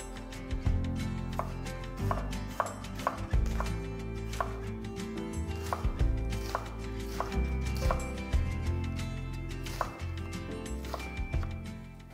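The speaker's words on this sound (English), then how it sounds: "One small red onion, sliced." A knife slices a small red onion on a cutting board in a steady run of crisp, close taps, with soft background music underneath.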